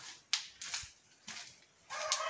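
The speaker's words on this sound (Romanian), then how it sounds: "Ce se aude aici? O fi vreo găină?" A hen clucks in short, separate bursts, close and fairly quiet, with a longer, louder call at the end and no voices.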